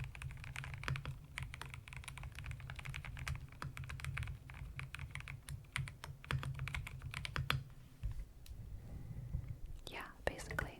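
Soft clicks and clacks of typing on a keyboard kept for ASMR run in quick irregular bursts, close and quiet, under a low whispering voice, with a brief rustle near the end.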